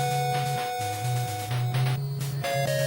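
Nintendo-style chiptune music made with soft synths plays simple square-wave tones with a stepping bass line and noisy percussion bursts, steady and moderately loud for a few seconds.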